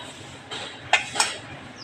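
A spoon stirs rice and urad dal batter with salt and a spoonful of oil in a vessel, heard as a quiet soft swish with two brief clinks against the pot, close and alone.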